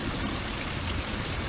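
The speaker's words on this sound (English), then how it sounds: "normally it just sort of trickles its way through the roots, but there's just about enough water to get it over the top" Water at Fairy Falls trickling through roots and spilling over the top, a steady close rushing wash with no pauses or voices.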